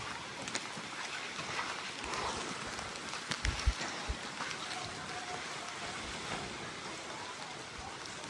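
Steady rain patters on surfaces all around, with a few heavier drips and thuds standing out midway.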